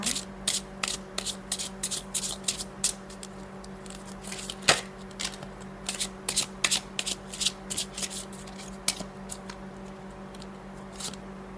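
Tarot cards being shuffled in quick bursts of crisp riffling and flicking, close and fairly loud, over a steady low hum, with no talking.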